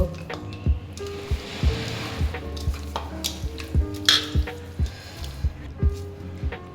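Chicken pieces being mixed with a tablespoon of salt by hand, giving rhythmic wet squishing and slapping pulses, close up, with occasional clinks of a bowl.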